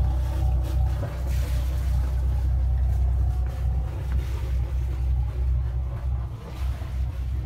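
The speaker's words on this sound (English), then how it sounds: "During sailing, there should be water coming out of the exhaust pipe." A sailboat's engine idles with a deep, steady low rumble, joined by a softer wash of cooling water splashing continuously from the exhaust pipe.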